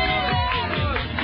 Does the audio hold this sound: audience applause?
yes